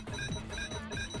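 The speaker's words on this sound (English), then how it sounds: "I really hope the beeping stops." A steady electronic beeping drone plays in a shooter video game with a minigun and sniper cannon, several high pure tones held level for just over a second.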